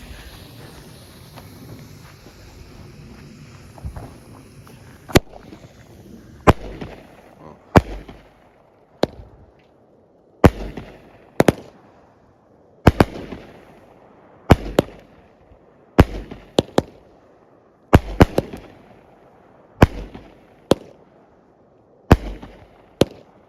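A Top Gun Ammo Crate assortment fireworks cake firing a series of sharp pops at irregular intervals outdoors, loud bursts with faint crackle and wind between them.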